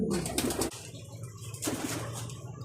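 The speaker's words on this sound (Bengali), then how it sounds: "এই যে এক জোড়া লটন কবুতর, দুইটা বাচ্চা সহ" A pair of Lotan pigeons with two chicks coo in repeated soft throaty bursts, close by, with a brief rustle or flutter between calls and no talking.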